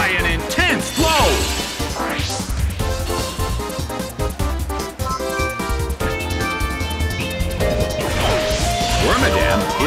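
A heavy hit impact lands during a Pokémon Battle Revolution battle, as a loud crashing smash buried in dense, continuous game music that runs throughout.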